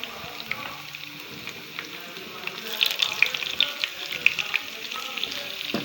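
Sliced ginger and green chilies fry in oil with golden-browned onions for sarson ka saag, a soft continuous sizzle with sharper crackles and spatters growing in the second half, with no voices over it.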